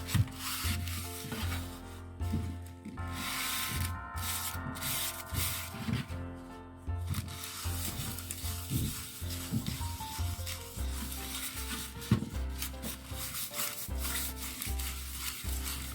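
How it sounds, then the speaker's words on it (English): Butter is rubbed across a baking tray to grease it for Christmas Chelsea buns, giving soft, steady rubbing and scraping strokes close by under continuous background music. "Some butter just to grease."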